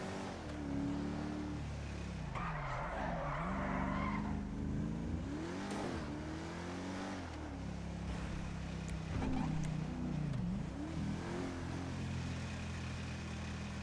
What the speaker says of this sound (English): Looks like we're in a Formula 1 car.